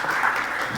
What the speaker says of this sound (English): let's hear it for Jen